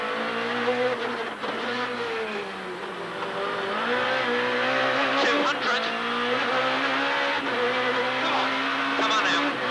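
A rally car in the 2001 Formula Rally Championship, Rally of Wirral, drives fast along a stage, its engine note rising and falling steadily throughout, with brief squeals and a voice talking over the engine.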